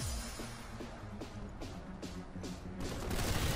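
Rapid gunfire from the online shooter game Planetside 2, a dense, continuous burst of shots with several heavier cracks mixed in, loud and close, with no talking.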